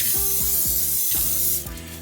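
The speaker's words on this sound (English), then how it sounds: "I'm using butter flavored spray, and spray the crock pot so that we don't stick." Butter-flavored cooking spray hisses from an aerosol can into a crock pot, in several short bursts one after another, close and loud.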